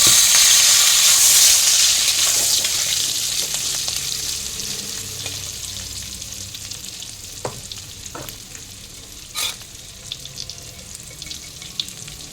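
Boiled potatoes dropped into a hot pan with asafoetida, a loud bright sizzle up front that gradually settles into a quieter fry, with a few scrapes and clinks of stirring toward the end.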